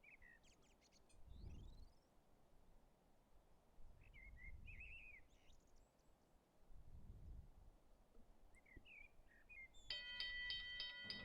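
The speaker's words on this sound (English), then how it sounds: "Birds twittering simulator." Birds twitter and chirp in short scattered bursts over a low rumbling background in the Train Simulator 2016 game on the Springfield Line, fairly faint and distant, with a brighter, louder run of calls near the end.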